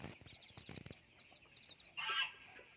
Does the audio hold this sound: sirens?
no